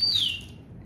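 Wagtail birds in a garden give a single thin, high chirp that slides downward in pitch, brief and fairly close, over a faint outdoor background.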